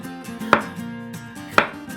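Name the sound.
chopping cucumber into smaller pieces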